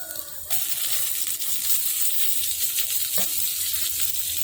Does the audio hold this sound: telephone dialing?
no